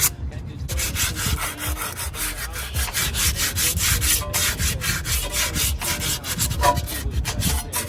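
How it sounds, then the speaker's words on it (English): A brake caliper is sanded by hand with 80 grit sandpaper, a loud, close, continuous rasping scrub with rhythmic back-and-forth strokes throughout. "Now we just gotta hit it with some 80 grit."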